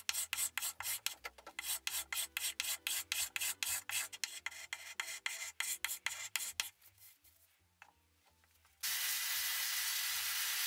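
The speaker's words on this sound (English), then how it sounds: "In a few seconds you will see me change direction and hold my scraper at a slight angle." A hand scraper strips old finish from an Art Deco wooden top in rapid, rhythmic rasping strokes, loud and close. Near the end the strokes slow to scattered scrapes, then give way to a steady hiss.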